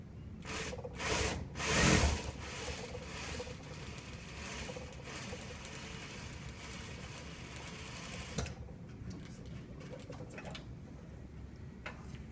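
A JUKI sewing machine stitches in a steady mechanical whir. A few louder bursts at the start give way to continuous stitching, with nobody speaking.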